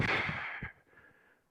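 Heavy breathing during a jump conditioning exercise comes as one loud, close exhale, then a quieter breath trailing off.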